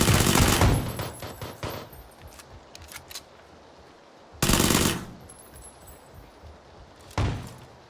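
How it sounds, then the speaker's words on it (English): Several bursts of gunfire from the shooter game PUBG: a loud volley at the start, a second strong burst midway and a shorter one near the end, with quieter shots and rattles in between and no talk. "I like how I shoot him four or five times, then he shoots me once"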